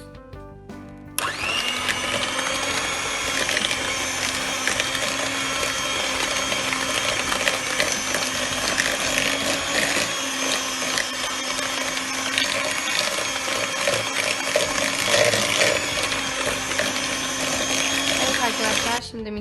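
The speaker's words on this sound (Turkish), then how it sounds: "Ve çırpmaya devam ediyoruz." An electric hand mixer whisks ginger cookie dough made with whole wheat flour, just after an egg yolk goes in. It starts about a second in and keeps a loud, steady, close whirring drone to the end.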